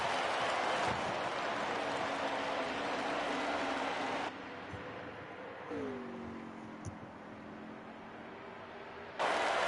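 A steady, roaring crowd drones continuously through a NASCAR Heat race at Richmond, with a brief tonal swoop midway and a louder swell at the end, and no engine sound.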